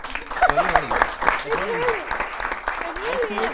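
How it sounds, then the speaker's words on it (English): An audience at a relationship talk show claps beneath overlapping voices, with speech and laughter running through the scattered clapping for a few seconds. "I think you should clap for it."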